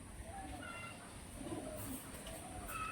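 A Madras pigeon coos softly in a loft, low gentle calls repeating at a distance amid faint background noise and a few higher chirps.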